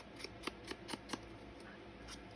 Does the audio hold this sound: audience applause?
no